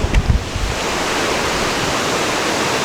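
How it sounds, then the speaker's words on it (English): A small waterfall roars as a steady, dense rush of falling water, loud and unbroken across the whole stretch, with a few low bumps at the start and no talking. "Oh, there's like another kind of mini waterfall down there."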